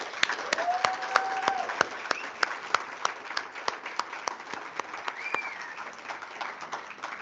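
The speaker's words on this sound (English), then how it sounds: "give her a round of applause" Sustained audience applause fills a conference hall in Kenya, dense clapping with sharp individual claps standing out, while brief whoops and calls rise above it.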